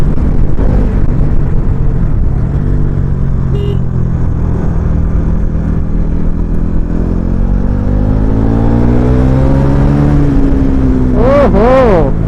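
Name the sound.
motorcycle engine accelerating quickly through gears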